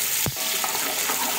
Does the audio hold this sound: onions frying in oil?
yes